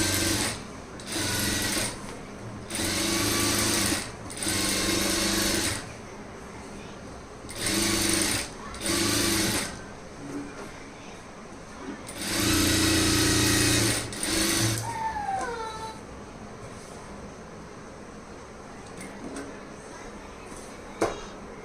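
A sewing machine stitches lining cloth for aari work in several short and medium bursts of fast, even mechanical whirring, close by, with someone talking in the pauses between runs.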